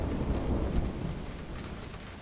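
Steady rain pours in Monaco with a low thunder rumble beneath it, a continuous dense wash of drops at close range throughout, no voices.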